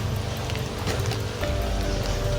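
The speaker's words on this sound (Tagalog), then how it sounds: "lalakas pa tong ulan, baka mababasa tayo" Rain falls steadily outdoors in the Philippines, a continuous dense patter on surfaces at fairly high level with no break.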